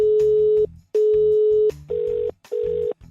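Telephone line tone after a prank call is hung up: four steady electronic beeps, two longer then two shorter, loud and close with brief gaps between them.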